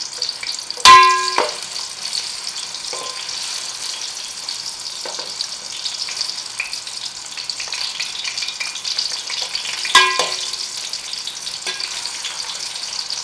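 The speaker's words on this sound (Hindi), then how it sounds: "अब हम इसमें आहिस्ता से अपने पोटैटो डाल देंगे।" Potato pieces fry in hot oil for a mutton yakhni pulao, with a steady close crackling sizzle throughout. Two sharp clinks of a utensil and bursts of spattering come near the start and again around the ten-second mark.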